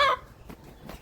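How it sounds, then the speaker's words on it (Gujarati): A caught rooster at a bullock shelter gives a brief loud cluck at the start, followed by two fainter squawks, with quiet background in between. "જાજી મહેનત બાદ કુકડો પકડાઈ ગયો."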